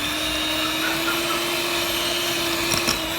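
An electric mixer whips eight ounces of cream cheese for an elderberry cream cheese king cake filling, giving a loud, steady motor whine that holds unbroken and close throughout, with no talking.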